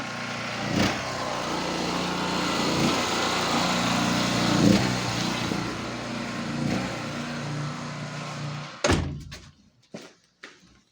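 Portable generator engine running at a steady drone that supplies a household socket, close and fairly loud with a few thumps over it, then it cuts off abruptly, leaving scattered knocks and clatter.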